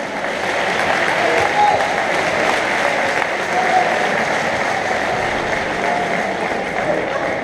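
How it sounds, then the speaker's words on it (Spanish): Sustained, dense applause from a crowd honouring two kickboxing fighters after their -62.5 kg bout at a gym event, steady and loud throughout with a busy, even wash of clapping. "voy a pedir un fuerte aplauso para Jalid y para Diego"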